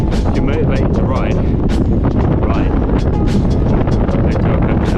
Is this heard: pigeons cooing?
no